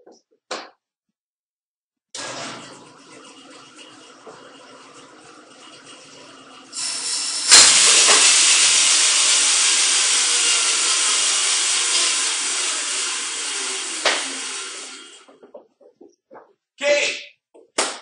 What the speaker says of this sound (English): I broke the blade on my bandsaw